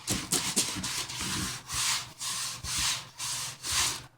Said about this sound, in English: as we're sanding here, smoothing that out